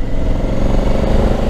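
Honda Africa Twin Adventure Sports 2021 motorcycle under way, a steady loud engine drone with wind rumble running continuously at close range, no talk over it.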